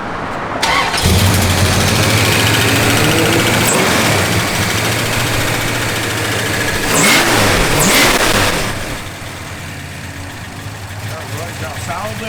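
A 1972 Plymouth Duster V8 with solid lifters fires up and revs strongly, a loud, steady low engine roar with a brief rise in revs partway through before settling lower, alone without talk.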